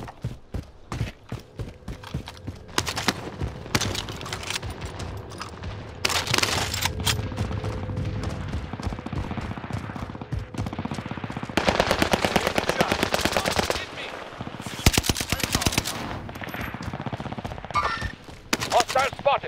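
Video game gunfire, dense rapid automatic bursts with brief pauses, loud and sustained across the whole stretch, with occasional talk underneath.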